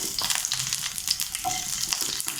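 Onions sizzle steadily in hot oil for a roadside-style salna, with a continuous close crackle and occasional stirring scrapes and no talk.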